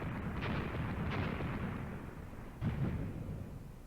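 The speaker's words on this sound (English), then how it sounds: "not 81, 80mm mortars" Mortar fire from 80mm mortars in the tank battle game Graviteam Tactics, set at Kharkov in 1942. It comes as a dense, continuous rumble of distant blasts, with a few sharper thuds rising above the roar and no talk.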